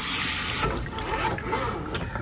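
Running water rinses through hair during a hair wash, a steady close splashing hiss that shifts in tone as the flow moves, with no voices.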